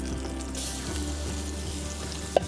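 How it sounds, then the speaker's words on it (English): Shallots sizzle and fry steadily in a hot pan at an outdoor cooking demonstration at a Norfolk motorhome show, a continuous close hiss ending with a couple of sharp utensil clinks. "we're now going to add our shallots"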